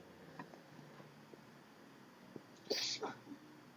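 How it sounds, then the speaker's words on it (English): Quiet rustling and faint breathy sounds, then one sharp sneeze close by, followed by a softer sniff. "hold on, I'm gonna sneeze"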